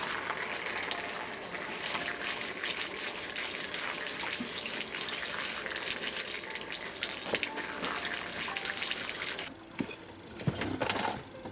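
Tap water runs steadily into a sink over vegetables being rinsed clean, a loud continuous gushing splash that briefly breaks and sputters near the end, with no talking.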